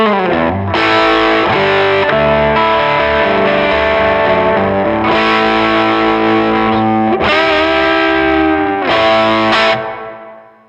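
An electric guitar played through an overdrive pedal set for a high-gain sound rings out in loud, saturated sustained chords and notes, with several fresh strums, before fading out at the end.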